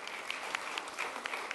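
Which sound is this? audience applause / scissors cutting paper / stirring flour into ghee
audience applause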